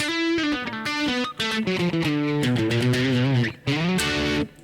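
An electric guitar, a 2013 Squier Deluxe, plays a short melodic phrase with a crunchy, distorted tone, notes sliding and sustaining close up.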